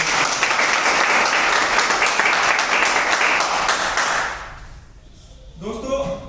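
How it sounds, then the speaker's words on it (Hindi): A loud, dense burst of audience applause at a wellness plan presentation, sustained for about four seconds before fading out, followed by a brief moment of a voice or low sound afterward. "मैं चाहूंगा दिल से एक बार जोरदार तालियां हो जाए"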